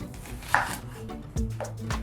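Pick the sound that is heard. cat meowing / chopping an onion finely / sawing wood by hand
chopping an onion finely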